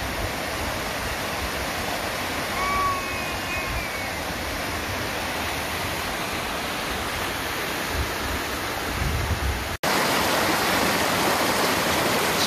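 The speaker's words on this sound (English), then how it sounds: "we are so close to the waterfall" A waterfall at Donut Falls in Big Cottonwood, Utah, roars nearby as a steady, dense wash of rushing water, continuous and loud with no talking over it.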